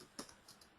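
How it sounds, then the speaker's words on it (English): Keystrokes on a computer keyboard, one sharper tap followed by a few soft clicks, faint and sparse against quiet room noise while code is typed in SAS. "I need to type in"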